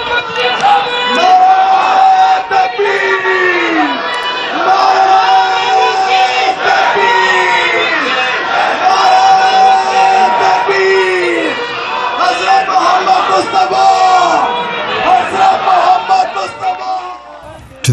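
A large crowd cheers and chants at the appearance of the Khalifa of Islam during a Canada tour in 2016, a loud, continuous roar with rhythmic shouted calls and whoops filling the whole stretch.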